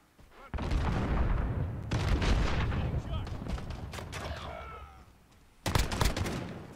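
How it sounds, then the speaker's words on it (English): Pistol gunfire rings out in a first-person shooter video game as bursts of sharp shots over a dense, loud game soundscape, with a fresh volley near the end. "That guy just started tagging me with the pistol right away."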